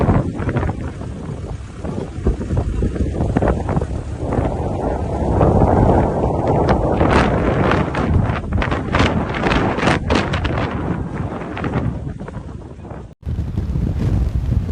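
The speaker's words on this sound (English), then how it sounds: "A severe winter storm hit Norilsk, Russia this month with wind gusts of up to 56 miles per hour." Severe winter storm wind gusts in Norilsk, Russia roar loudly and continuously, buffeting the microphone with rough low rumble and surging gusts, then a brief cut before the roar resumes.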